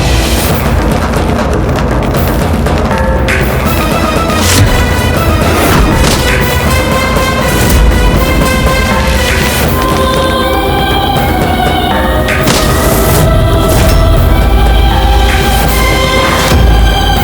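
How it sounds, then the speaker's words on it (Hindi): Loud booming blasts and bursts of cannons being blown up ring out over a continuous dense wash of music, with repeated heavy explosion hits throughout. "अकबर की इन तोपों को उड़ाने का।"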